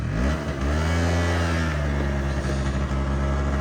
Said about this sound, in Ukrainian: мені подобається, як двигун працює у 51-го